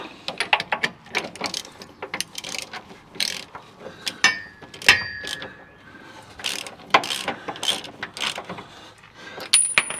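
A hand ratchet winds a bolt all the way up on the steering idler arm of a Holden HK, with quick bursts of sharp clicking repeating in irregular spurts close by, and a few metallic scrapes between strokes.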